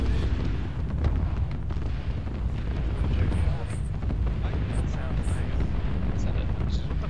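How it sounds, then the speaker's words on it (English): Cluster bombs hitting a town in a military game, a continuous rumble of distant explosions with deep rolling booms under wind-like noise, faint voices over it. "Did you just cluster bomb that whole fucking town?"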